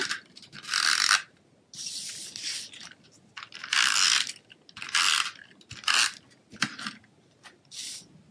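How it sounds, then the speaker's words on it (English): A snail adhesive tape runner lays glue strips onto Stampin' Up cardstock for a handmade card, producing about seven quiet, short ratcheting rolls separated by brief pauses. "So we're just going to adhere this down with some snail."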